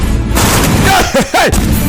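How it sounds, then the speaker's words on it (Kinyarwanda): Gunfire in a sniper scene from a forest action film, loud and dense across the two seconds, with blast-like bursts under dramatic voices and effects. "Ni umututu w'imbunda."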